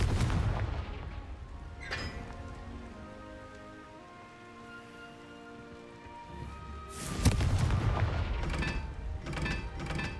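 Confringo fire spell blasts in Hogwarts Legacy, a loud explosive burst near the start and another crackling booming cluster around seven seconds, amid rain-like crackle and game ambience.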